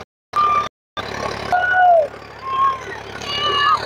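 A Swaraj 744 FE or Sonalika DI 745 III tractor pulling a plough through a field in a competition, its engine a steady rumbling drone with faint whining tones, broken by two short dropouts early on.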